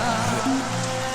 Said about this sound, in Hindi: अगर बारिश ऐसा होता रहे तो पानी ज्यादा ही जमेगा।